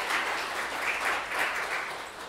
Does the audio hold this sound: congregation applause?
yes